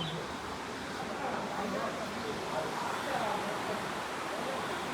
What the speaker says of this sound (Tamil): கீழே பின்னாடி ஃபால்ஸ் இருக்கு.